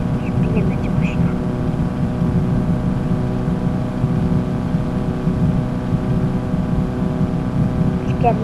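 Steady engine drone of a car in the mobile driving game Car Parking, a continuous low hum with faint revving throughout, under quiet background talk.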